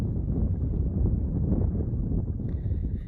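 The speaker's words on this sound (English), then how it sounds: "it is windy" Strong wind blows across a river, a loud continuous low rumble of gusts buffeting the microphone, with a faint high tone creeping in near the end and no speech.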